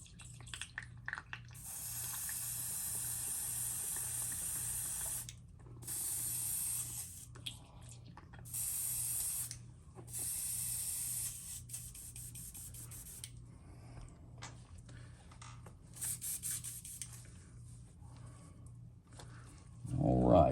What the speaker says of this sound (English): We're gonna clean the gun out.